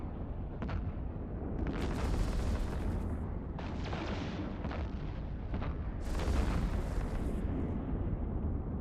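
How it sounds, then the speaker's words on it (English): Ship weapons in EVE Online fire on a battleship, producing a series of booming, crackling bursts over a constant low rumble, several blasts spaced irregularly across the stretch. "Alright, I'm going to start shooting this battleship."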